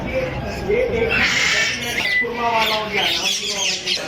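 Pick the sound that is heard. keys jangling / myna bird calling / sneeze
myna bird calling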